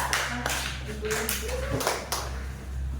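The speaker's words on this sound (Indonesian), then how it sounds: "Tepuk tangan untuk kelompok 2" A classroom claps for a student group after their presentation, a handful of sparse, distinct claps close by, with a voice speaking briefly between them.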